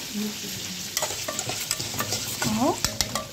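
Breaded chicken and cooked potatoes and other vegetables are stirred in a frying pan, with a close, steady sizzle broken by repeated scraping and clinking strokes of the utensil.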